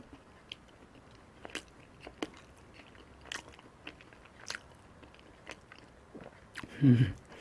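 Bakery bread being bitten and chewed: scattered soft chewing crunches at close range, ending in a louder, fuller bite or mouth sound, with no talking.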